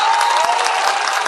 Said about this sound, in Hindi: मैं चाहता हूँ कि एक बार जोरदार तालियां इस मुशायरा कमेटी के लिए बजा दें।